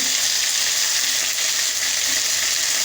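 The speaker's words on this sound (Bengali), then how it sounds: "একটু হলুদ দিয়ে ডাঁটাটাকে ভালো করে ভেজে নেব।" Vegetable stalks fry in a pan with salt and turmeric, giving a steady, dense sizzle that runs loud and unbroken throughout, with faint stirring beneath and no talking.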